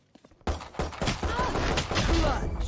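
Gunfire in the video game Valorant bursts out after a short quiet lead-in, a dense stretch of shots and impacts that runs loud and steady to the end, with players talking underneath.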